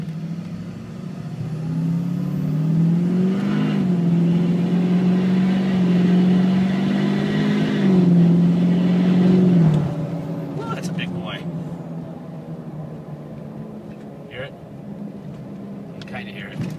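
A 2005 Chevrolet Silverado Duramax diesel pickup accelerates from a standstill, its engine note climbing steadily through gears for about ten seconds, then falling to a softer cruising hum with light clicks and rattles.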